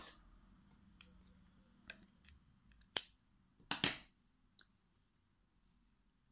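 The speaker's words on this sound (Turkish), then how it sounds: "30 zincirimizi tamamladıktan sonra şu şekilde ipimi kesiyorum." Two sharp snips of scissors cutting crochet yarn for a headband, close and crisp, with one softer click just before and faint clicks around them in a quiet room.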